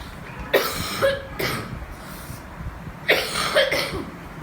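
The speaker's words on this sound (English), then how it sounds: "Sorry, I have cough, so it's little bit uncomfortable for you." Two separate bursts of harsh coughing from a nearby person, the first a quick double cough, the second a longer fit a few seconds later, with quiet between.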